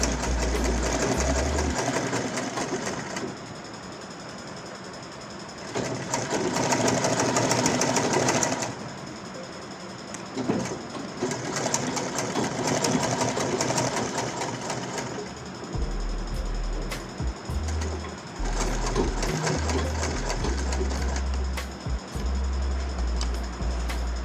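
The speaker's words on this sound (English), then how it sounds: "I'll be sewing by about 1/8 of an inch thereabouts." A sewing machine stitches a shirt collar about an eighth of an inch from the edge, whirring close up in several steady runs separated by brief pauses.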